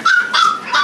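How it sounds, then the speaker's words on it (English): A puppy in a pet store at a mall yips three times in quick succession, loud, high and close by, with no talking. "Aunt Jenny's dog"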